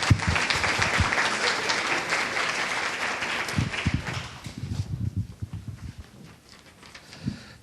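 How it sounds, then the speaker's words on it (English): Audience applause at a school student panel event: loud, full clapping from a crowd that thins into scattered claps and fades toward the end. "Give them another big round of applause."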